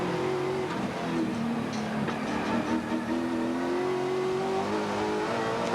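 Touring race cars at the 1994 Sandown 500 motor race, engines droning and rising in pitch as they rev and accelerate, one loud engine note carrying steadily over the others.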